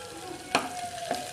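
Vegetables with turmeric sautéing in a pan for a Maharashtrian colocasia-leaf curry, a quiet steady sizzle with stirring scrapes and two brief sharp utensil knocks.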